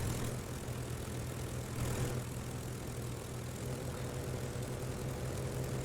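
Jet engines on a transport plane in Space Engineers, a steady broadband roar with a low hum underneath, constant and fairly quiet throughout, no voices.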